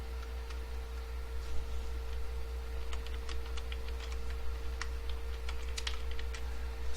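Typing on a computer keyboard while statistics exercises on a continuous-data histogram are worked through: irregular light key clicks, sparse at first and then in quicker bursts, close by over a steady low electrical hum, with no talking.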